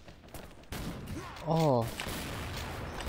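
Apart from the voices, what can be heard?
Barrett sniper rifle gunfire in the video game XSHOT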